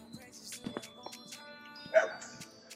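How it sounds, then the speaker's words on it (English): Several dogs bark off and on in a quiet residential street in Charleroi, Pennsylvania, their short yips and barks sounding faint and fairly distant against low outdoor ambience. "Couple dogs barking."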